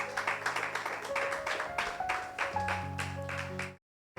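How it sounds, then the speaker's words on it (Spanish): A church congregation claps together in quick, steady rhythmic bursts for several seconds, moderately loud, with a sustained musical tone underneath before it cuts off abruptly. "¿Alguien puede darle un aplauso a Cristo?"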